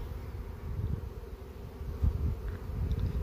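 Honey bees fly around an open hive during a brood disease treatment, a steady low buzzing swarm that hums continuously close by, with no talking.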